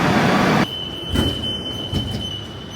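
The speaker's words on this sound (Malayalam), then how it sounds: "മെട്രോ സ്റ്റേഷൻ എത്തി കേട്ടോ." A metro train rumbles loudly into MG metro station, then the roar drops away to a quieter hum with a faint high whine and a few clunks.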